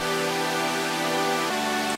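Four layered synth saw patches play together as one thick, sustained chord in a melodic bass style. The tone is loud and steady, shifts to a new lower note about three quarters through, then cuts off sharply at the end.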